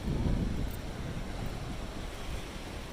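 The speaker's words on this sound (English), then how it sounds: "A beautiful day for walking along the beach." Steady surf rolling onto a beach in Salvador on a fine day, a continuous close wash of waves mixed with wind rumble, with no voices.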